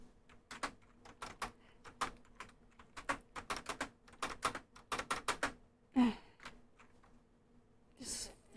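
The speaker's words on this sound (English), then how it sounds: "Just fighting my keyboard over here." Bursts of computer keyboard typing come in short uneven runs of clicks, fairly close, with a sigh or breath and a soft thump in the pauses.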